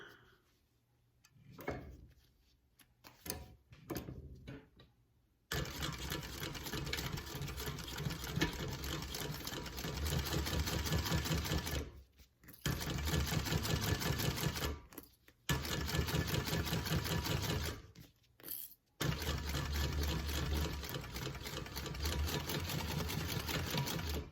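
A sewing machine top stitches a seam in long steady runs of rapid, even needle clatter, several bursts separated by brief pauses, with a few quiet handling sounds before the stitching starts.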